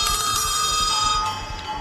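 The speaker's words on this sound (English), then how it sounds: "This is a little ice bell." A small 8-inch ice bell from a drum kit, the kind big band drummers used in the 1920s and 30s, struck once and left ringing with a long, bright, sustained tone that slowly fades.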